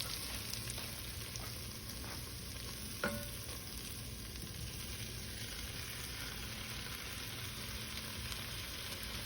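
Sausage and bacon fry in a skillet for a Cajun dish with peppers, giving a steady, even sizzle throughout with one faint tap of a utensil partway through and no talking.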